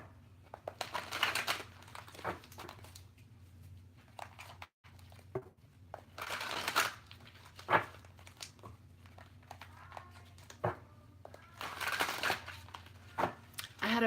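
A deck of tarot cards is shuffled by hand, a soft papery riffling and patter that keeps going steadily throughout while a person talks over it.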